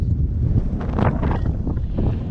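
Strong wind buffets the microphone on a mountain summit ridge in the Black Mountains, a loud continuous rumbling rush with rising and falling gusts and no voices.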